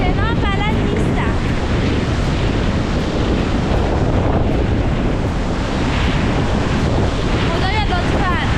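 Water pours and splashes steadily down a waterfall in a windy Arctic landscape, a dense, unbroken roar, with a voice speaking over it at the start and end.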